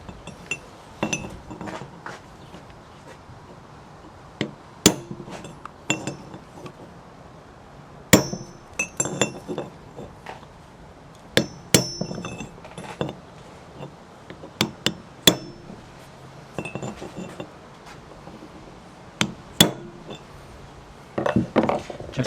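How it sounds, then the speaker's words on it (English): Hammer tapping a metal punch to mark a dimple during a front brake and wheel bearing job on a 1994 Toyota 4Runner, heard as scattered sharp metallic clinks at an irregular pace, close and fairly loud, with no talk. "Put a little punch mark there"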